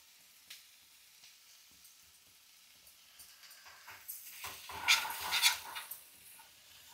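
Chopped garlic and ginger frying in hot oil, a faint sizzle that builds into louder crackling bursts toward the end, with no voices.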